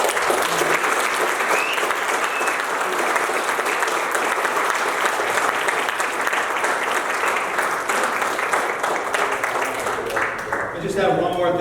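Sustained, loud audience applause at a thank-you dinner for local Vietnam veterans, a steady roar of many hands clapping that holds throughout and thins out only at the very end.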